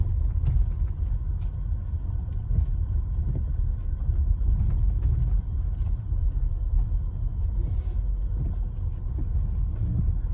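A Tesla Model X Plaid rolls along an ordinary dirt road with a steady loud low rumble of tires and cabin noise, with faint gravel ticks throughout.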